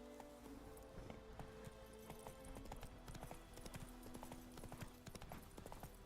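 Roach, the horse in The Witcher 3, galloping with a steady quick rhythm of hoofbeats, faint and continuous over a low game ambience.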